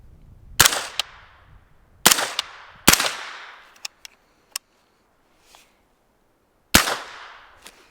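A CAR-15 SD suppressed upper on a rifle fires a loose string of sharp, close reports: two lone shots, then a tight double and a later single, each trailing a short decay, with light mechanical clicks between.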